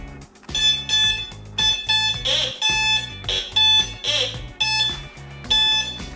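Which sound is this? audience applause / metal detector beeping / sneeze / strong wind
metal detector beeping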